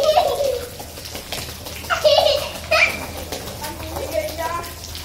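Water splashing and running during household washing for Holi cleaning, sloshing in uneven bursts beneath children's chatter and laughter and an adult talking close by.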